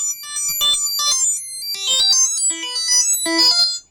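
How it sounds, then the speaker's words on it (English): Arpeggiated synth line from an Akai Synthstation 25 with phaser applied, bright plucked notes stepping up and down in quick rhythmic runs, played alone and fairly loud throughout. "if we go back to that arpeggiated synth sound that we had, we can add some phaser"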